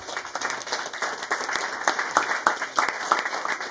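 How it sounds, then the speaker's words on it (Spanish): Guests applaud at a baptism party, a lively run of clapping with a few sharp individual claps standing out from the crowd over nearly four seconds. "un fuerte aplauso a la distancia"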